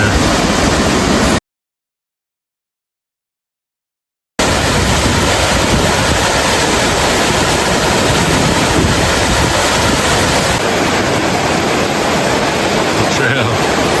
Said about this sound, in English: Laurel Falls. Pretty freaking huge.